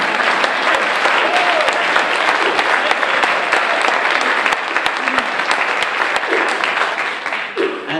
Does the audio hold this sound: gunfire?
no